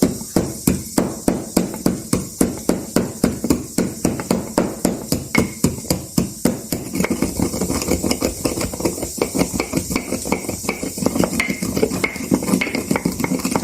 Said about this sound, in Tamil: நம்ம நல்ல மிளகு, ஜீரகம் இடித்து போடணும்